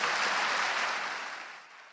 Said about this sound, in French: Applaudissez pour vous